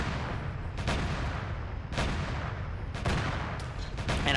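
A mass driver cannon mounted on a vehicle in a video game fires four heavy booming shots at uneven intervals, each a loud sharp blast with a trailing rumble over constant low noise.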